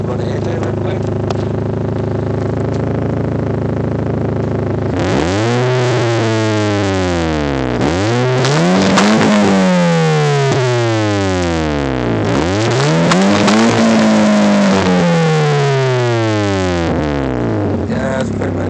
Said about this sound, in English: I'm gonna let my homeboy Jeffrey run the engine real quick.